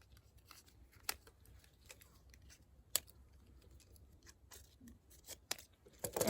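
Scissors cut plastic sheet into strips and then across for garden reuse, giving faint, scattered snips and crisp crinkles at irregular intervals, quiet and close, with no talking.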